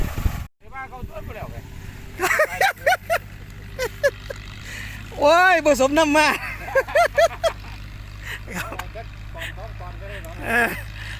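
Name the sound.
farm tractor working in a sugarcane field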